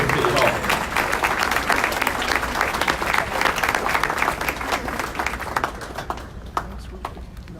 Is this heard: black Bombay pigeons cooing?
no